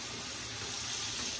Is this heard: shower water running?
yes